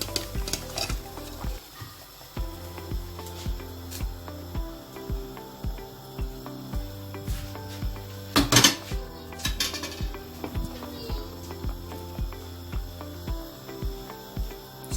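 Catfish pepper soup stirred in a small pot, a spoon scraping and knocking against the metal in a regular rhythm of repeated strokes, close and fairly loud with no talking.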